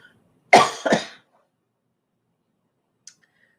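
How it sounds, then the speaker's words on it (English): A person coughs twice in quick succession, close and fairly loud, followed by silence and a faint click. "you can see it makes me cough"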